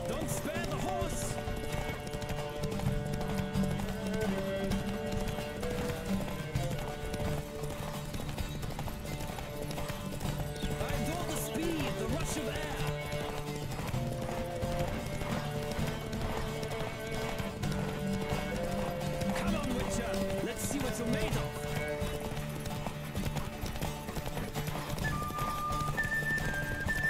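Horse hooves clip-clop at a gallop during a race in The Witcher 3, steady rapid beats under game music with occasional whinnies and a shouting voice.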